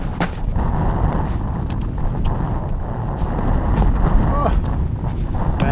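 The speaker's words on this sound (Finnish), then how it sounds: "Oho, tuulee vähän." Steady wind roars and buffets the microphone outdoors on a snowy disc golf course in Finland, a continuous loud rumble with occasional gusty bumps.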